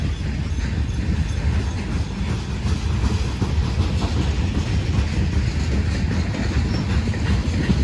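A CSX M422 freight train rolls past at a rail junction in Buffalo, New York, giving a loud, steady rumble of wagons with rhythmic clickety-clack from the wheels and a faint metallic squeal, with no voices.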